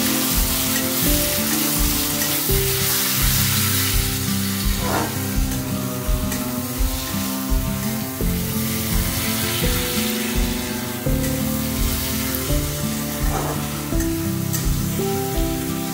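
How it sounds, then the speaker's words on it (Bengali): Boiled taro (kochu mukhi) stirred in a frying pan, giving a loud continuous sizzle with repeated spatula scrapes and knocks against the pan, close up and with no talking. "কচুরমুখি বা গাঁটি কচুটা দিয়ে ভালো করে নাড়িয়ে চাড়িয়ে দেবো"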